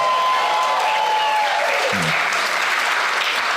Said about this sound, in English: Nothing like the artificially generated applause.